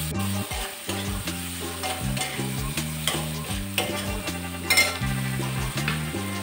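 Spices frying in oil while being stirred for a capsicum and potato bhaji, a constant sizzle broken by rhythmic stirring scrapes and a few spoon clinks against the pan, close and without voices.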